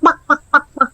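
Cartoon clucking of a big rooster: four loud, evenly spaced squawking clucks in quick succession, close and alone with no talk.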